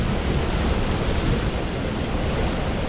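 A swollen autumn waterfall rushes and foams, normally a thin vertical drop now a broad torrent; a steady, loud, unbroken roar of churning water with no voices.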